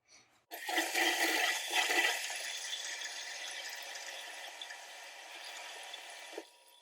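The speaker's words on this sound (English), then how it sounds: "So now we can go turn back on the water and test things out." Water bursts out and keeps rushing steadily for several seconds after a Delta shower valve is cracked open, then cuts off near the end.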